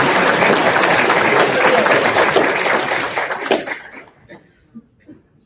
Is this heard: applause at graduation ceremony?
yes